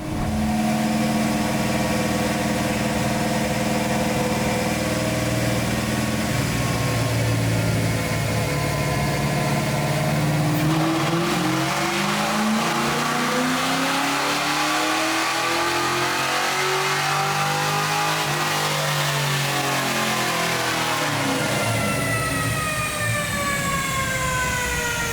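A modified 1995 Ford Mustang GTS with a stroker 302 V8 revs hard on a chassis dyno, its loud engine note sweeping up through the gears in long rising pulls and then winding back down. No one talks over it.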